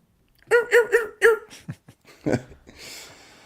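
A dog barks four times in a quick, close burst, followed by a couple of softer yips and whimpery sounds before a short breathy trail.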